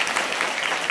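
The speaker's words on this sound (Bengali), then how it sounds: "সবার জন্য একটু জোরে হাততালি" A burst of applause from a group, dense and close clapping filling the whole brief moment.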